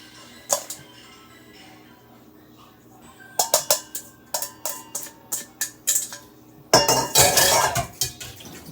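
A spoon stirs a pot of broccoli and cheddar soup, clanking against the metal in a series of close, sharp knocks. A denser burst of scraping and clatter comes near the end, with quiet gaps between strokes.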